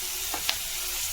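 Chicken, paneer and chopped garlic fry in a pan with a soft, steady sizzle. Two brief clicks of stirring break the low hiss, and no one speaks.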